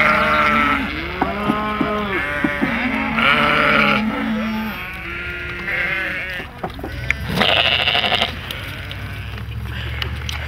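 Sheep bleat repeatedly and loudly up close, several wavering calls overlapping, with a person's voice mixed in among them.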